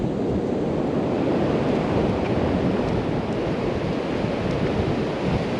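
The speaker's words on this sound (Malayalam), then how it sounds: "വളരെ ഭംഗിയുള്ള ഒരു ബീച്ചാണ്" Sea waves wash steadily on a Goa beach, a broad continuous surf roar with wind buffeting the microphone and no voices.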